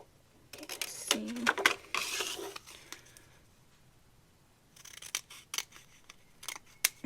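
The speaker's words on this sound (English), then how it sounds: "So I'm just going to cut another one here." Scissors snip through paper in a craft room, with a burst of quick, crisp cuts followed by a pause and another run of close, sharp snips.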